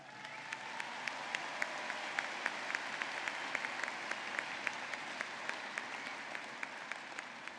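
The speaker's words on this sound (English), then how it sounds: "Please give them a huge round of applause." Audience applause at a fall 2018 university commencement, steady, moderately distant clapping from a large crowd with a few crisp claps standing out, and no speech.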